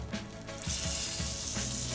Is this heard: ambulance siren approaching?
no